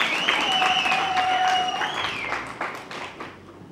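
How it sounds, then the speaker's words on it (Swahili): Young people applaud at a ruling party political gathering in Songwe region, Tanzania, producing sustained, dense crowd clapping with high whistle-like tones over it, easing off toward the end. "Vijana kupigia makofi."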